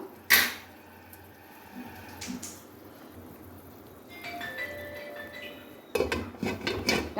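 A metal lid clanks sharply onto a pot of rui fish korma. A few soft knocks follow, then a stretch of ringing metallic scrapes and rattles close by, with no speech.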